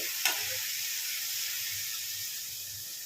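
Seasoning sizzles in a pan for coriander rice, a steady, bright frying hiss that holds even throughout. One brief clatter comes near the start, and there is no speech.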